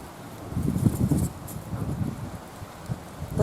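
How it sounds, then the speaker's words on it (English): Gusty outdoor wind rumbles against the microphone in uneven surges in a garden, with rustling mixed in throughout the short stretch. "it's very windy"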